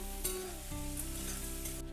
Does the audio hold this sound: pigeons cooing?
no